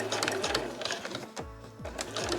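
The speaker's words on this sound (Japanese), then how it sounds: "重なりの部分もそのまま縫っていきましょう。" A sewing machine stitches cloth for a tissue case and pouch in a fast, rhythmic mechanical whir with repeating needle clatter, close and steady, pausing briefly midway.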